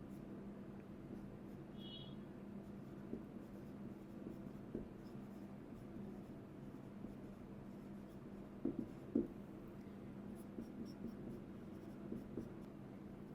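Handwritten notes during a finance lecture: a soft, faint scratching of pen on paper, with a few light taps over a low steady hum.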